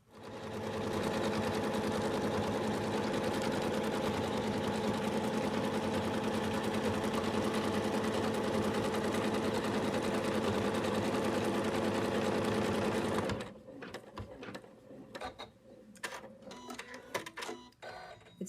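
An embroidery machine stitches a placement line for the beard on an in-the-hoop Santa bib, a loud steady mechanical buzz lasting about thirteen seconds, then stopping abruptly, followed by scattered handling clicks and rustles.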